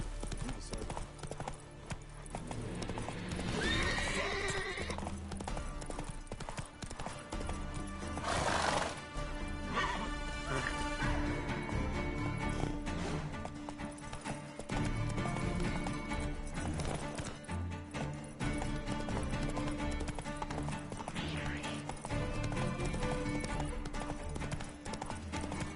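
The horse Roach gallops in The Witcher 3, a steady clip-clop of hooves with a whinny, all under a constant loud layer of game music and ambience throughout.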